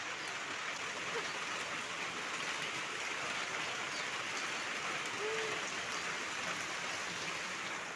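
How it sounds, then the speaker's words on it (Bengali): Steady rain falls in an even, unbroken hiss that fills the whole stretch, with no voices and only a faint brief tone partway through. "আবার বৃষ্টি শুরু,"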